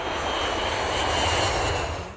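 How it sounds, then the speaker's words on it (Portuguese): An airplane passing overhead in a city, a loud, steady roar of aircraft engines swelling slightly toward the middle and then fading at the end, with no talking. "até a passagem de um avião"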